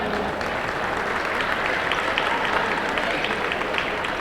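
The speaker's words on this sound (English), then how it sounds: "Ladies and gentlemen, a big round of applause for all that." Steady audience applause in a high school basketball gym, a moderate wash of clapping heard from a slight distance and sustained throughout.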